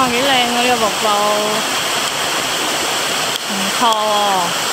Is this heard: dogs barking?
no